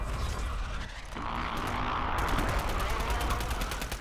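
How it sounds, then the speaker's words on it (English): Rapid gunfire aimed at players in a video game, a dense steady crackle of shots that thickens into a fast repeating burst in the second half. "We're getting shot at."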